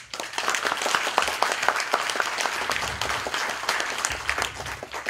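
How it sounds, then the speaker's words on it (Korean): A ceremony audience claps in steady applause at a Korean War veterans' association LA chapter inauguration, a dense, continuous patter of many hands that stays full and fairly loud for the whole stretch. "여러분 함께 이 자리에서 뜨거운 박수를 부탁드립니다"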